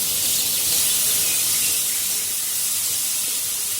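Potatoes frying in a pan on a gas stove give off a steady, even sizzle, a bright hissing crackle that holds constant throughout with no voices.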